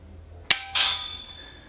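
A handgun dry firing with a laser training cartridge makes two sharp metallic clicks a fraction of a second apart, close and crisp, the second trailing into a faint high ringing tone.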